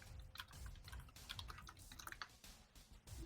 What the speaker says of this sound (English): He's tip tapping on his keyboard.